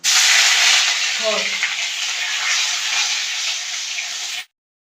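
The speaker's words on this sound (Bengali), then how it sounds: "আদা ভাজা হয়ে গেছে" Crushed ginger frying in hot oil with dried red chillies and five-spice seeds gives a close, steady, loud sizzle that holds for about four and a half seconds and then cuts off.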